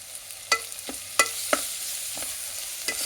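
Ginger garlic paste frying in a pan while being stirred, with a soft steady sizzle and a few distinct scraping clacks of a spoon against the pan, no voices.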